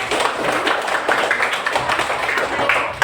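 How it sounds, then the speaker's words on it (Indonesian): Clapping from a classroom group rewarding a participant, a dense steady patter of many hands for about three seconds with faint voices mixed in. "beri tepuk tangan deh"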